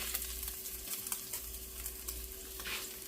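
Bacon sizzles and crackles steadily in a pan on an electric stove, a continuous close frying hiss with scattered pops and a light stir or scrape partway through.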